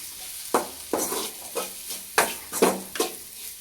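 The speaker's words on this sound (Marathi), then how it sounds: "असा टाकून दिल्याच्या नंतर हा पण मिक्स करून घ्यायचा." Spoon scrapes and stirs crushed peanuts through a sizzling capsicum stir-fry in a pan, with rhythmic scraping strokes about every half second over a steady frying hiss, close up.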